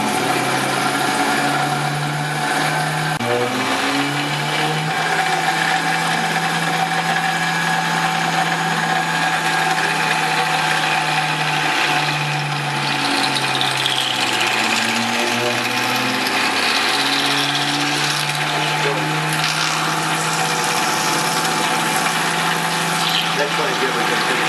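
A CNC machine spindle cuts custom exhaust flanges for a 427 Cobra, a steady machining drone with shifting whine and pitch sweeps as the tool moves, continuous and fairly loud throughout.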